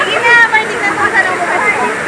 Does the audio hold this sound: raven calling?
no